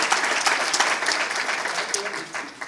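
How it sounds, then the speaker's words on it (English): Audience applause for a teacher's birthday at a school district gathering of campus teachers, steady dense clapping sustained throughout at moderate loudness, with a few voices mixed in. "One more round of applause for the birthday boy"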